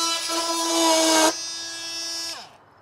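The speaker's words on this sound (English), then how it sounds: "All right, guys, this is my new favorite multi-tool. That's for sure, the Milwaukee M12 fuel. This thing just rips" A Milwaukee M12 Fuel oscillating multi-tool cuts with a loud, high buzzing whine up close, easing to a lower steady drone before winding down and stopping.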